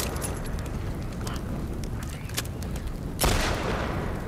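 Gunfire bursts in The Last of Us Part II, rapid shots crackling close and loud, with a bigger blast near the end.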